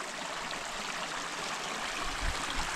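Continuous broadband rush of a stream flowing in Hanaupah Canyon, steady and close, with no voices over the water.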